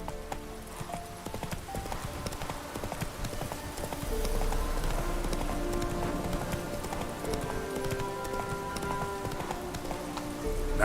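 Hooves from Roach, the horse in The Witcher 3: Wild Hunt, pound in a quick, continuous galloping rhythm under a swelling orchestral score, close and clear throughout.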